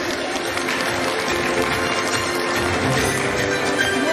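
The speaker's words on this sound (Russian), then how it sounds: "Пожалуйста, аплодисменты." An audience at an awards ceremony claps steadily and loudly, a dense, continuous wash of many hands that holds at full strength from start to finish, with no speech over it.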